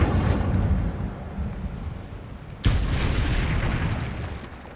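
An Incendio fire spell is cast in a Harry Potter video game: a steady roaring rush, then a single sharp burst that flares loudly before settling into a sustained crackling whoosh.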